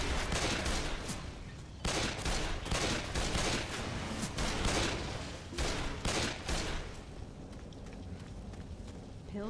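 Dense, continuous gunfire from the video game Left 4 Dead 2, with rapid shots layered over one another at close range and loud throughout, a few heavier bursts standing out from the barrage.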